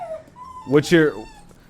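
A dog whimpers in a short, high whine that rises into a brief strained yelp, close and fairly loud.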